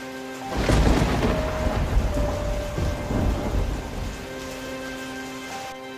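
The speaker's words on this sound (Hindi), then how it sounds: "आसमान से मूसलाधार बारिश थमने का नाम नहीं ले रही" Heavy downpour with a thunderstorm, a long rolling rumble of thunder swelling after a quiet start and fading slowly over steady loud rain hiss.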